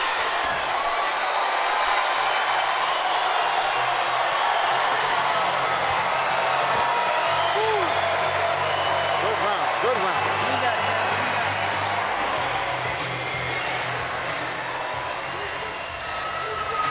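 A boxing arena crowd roaring and cheering at the end of a round in a women's world title fight, a sustained loud wash of voices and applause with commentary over it.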